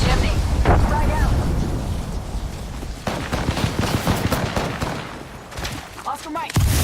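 Video game combat with rapid gunfire and grenade explosions, dense bursts and booms rolling continuously under a voice calling out in the fight.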